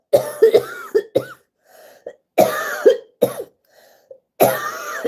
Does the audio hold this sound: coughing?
yes